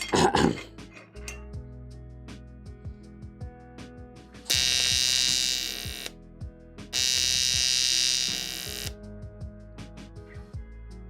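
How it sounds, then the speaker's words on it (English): Spot welding practice in a garage, joining small metal pieces: two loud sustained bursts of harsh crackling buzz, each about two seconds, stand out over a quieter background of scattered clicks and hum. "doing some spot welding practice"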